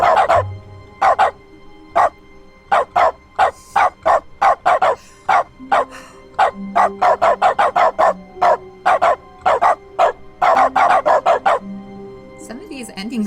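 Dog barking triggered by a console command in the video game The Stanley Parable, a rapid series of loud, close barks repeating in quick bursts with brief pauses, some whimpering yips mixed in.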